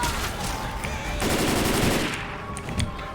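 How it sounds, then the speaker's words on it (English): Machine-gun fire in a multiplayer war video game, a dense continuous rattle of rapid shots with a heavy low rumble, loud and close, filling the whole stretch without talk. "Dan, watch your fire."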